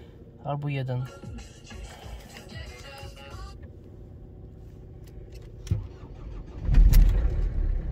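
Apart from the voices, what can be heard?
car engine starting in frosty weather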